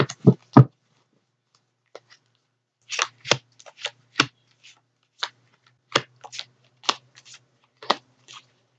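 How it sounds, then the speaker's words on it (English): Tarot cards being cut and shuffled by hand, a series of sharp papery riffles and taps in irregular bursts, close and clear against a quiet background. "Spirit is wanting me to cut the cards this time,"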